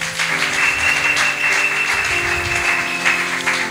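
A church congregation applauds during a consecration service, with sustained, even clapping and a held musical tone underneath, with no voices standing out.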